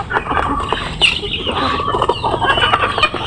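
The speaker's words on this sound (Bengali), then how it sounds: "মাশাআল্লাহ, আল্লাহর রহমতে অনেকগুলোই মুরগি হয়েছে" Many chickens on a poultry farm cluck and chatter continuously up close, a busy overlapping flock with scattered sharper calls.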